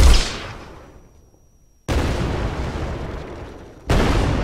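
Explosions in an Unreal Engine 4 side-scrolling shoot 'em up game hit as three loud, sudden booms about two seconds apart, each leaving a noisy rumbling tail.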